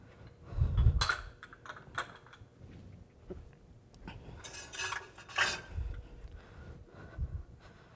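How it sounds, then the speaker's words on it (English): A utensil stirs a stir-fry sauce of sesame oil and sugar in a bowl, giving intermittent clinks and scrapes against the dish, close and uneven, with quiet gaps between strokes. "We're just going to give this a quick mix, get the sugar nice and dissolved."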